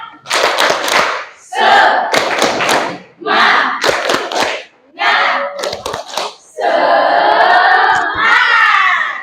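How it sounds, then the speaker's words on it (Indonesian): A class of pupils claps a rhythmic spirit cheer, sharp grouped claps loud and close, mixed with children's voices chanting together between the bursts. "Tepuk semangat."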